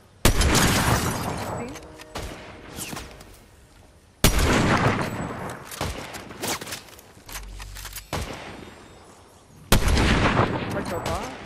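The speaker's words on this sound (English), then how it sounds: "Sniper from over here." Sniper rifle gunfire in the video game Fortnite, three sharp loud shots each followed by a booming tail and lingering echo, spaced several seconds apart with softer in-game noise between them.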